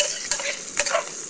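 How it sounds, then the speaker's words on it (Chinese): Cured pork belly sizzles and spits in a wok over an outdoor cooking fire beside a stream in Hunan, a steady frying hiss broken by a few sharp clatters of stirring, close and fairly loud with no talk. "把这个腊肉里面的油给炸出来"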